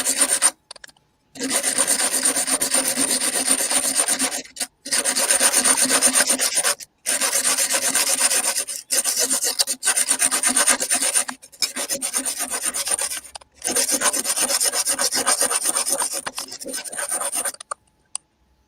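Rough sanding with 80 grit sandpaper on a surface being roughed up for adhesive, loud close rasping strokes in long bursts separated by short pauses, no talking.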